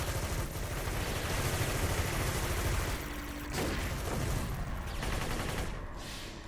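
Dense, continuous gunfire from City of Heroes mercenary combat, overlapping shots and bursts forming a loud, unbroken fusillade for the whole stretch, with brief dips and swells.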